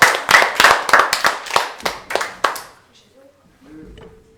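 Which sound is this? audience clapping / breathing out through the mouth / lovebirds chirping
audience clapping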